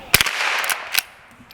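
A Henry .22 lever-action rifle fires at a can outdoors, with a few sharp cracks in quick succession and a brief ringing tail, close and loud.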